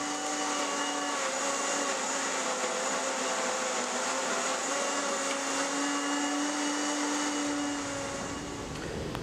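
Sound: blender mixing antimony trioxide and sulfur

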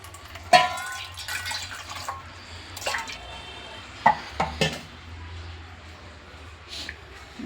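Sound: mixing batter with water for raw banana kebab

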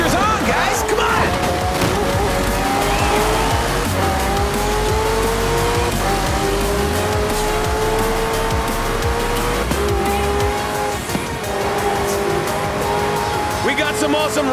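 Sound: hypercars and racing trucks racing, Forza Horizon 4 video game

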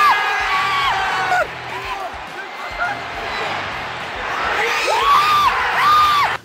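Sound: football crowd cheering at Old Trafford

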